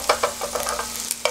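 Beef intestines (makchang) frying in a pan, a soft steady sizzle with irregular crackling pops close by, no talking.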